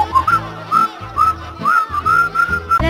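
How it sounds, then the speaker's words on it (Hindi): A person whistles a short, bright repeated tune over a jingle-style music bed in a hair-oil commercial, the melody rising and falling in quick phrases up front in the mix. "सीटी बजाओ।"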